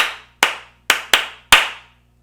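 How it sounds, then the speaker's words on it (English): Hands clap sharply and close by in an uneven rhythm, six crisp claps with irregular gaps, alone and without voices. "So when you clap, you have to like clap at a different rhythm."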